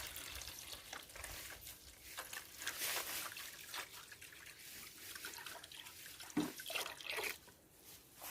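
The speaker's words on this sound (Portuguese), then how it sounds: "A gente vai colocar aqui em média 7 litros de água" About seven liters of water pour steadily into a container for mixing biofertilizer, a soft continuous rushing and splashing that stays fairly faint throughout, with no voices.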